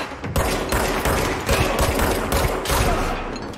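Rapid gunfire from a firefight in the video game Control, with dense overlapping shots and bursts forming a loud, continuous volley that fills the whole stretch without pause.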